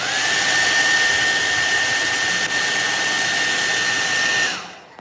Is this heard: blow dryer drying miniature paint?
yes